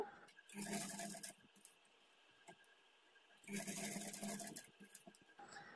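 Two bursts of a sewing machine stitching piping on a plain blouse, each running about a second, separated by a quiet pause and close up.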